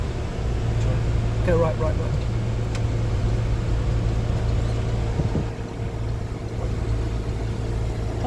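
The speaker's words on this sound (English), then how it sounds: "we're just driving around Katanning" A car cruising through the streets of Katanning, a country town, with a steady low engine hum and road rumble that holds throughout, while someone speaks briefly over it.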